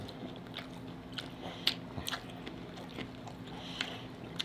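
Crunchy spicy taco shells being bitten and chewed during a mukbang eating challenge, a close run of sharp, irregular crunches and bites with no talking.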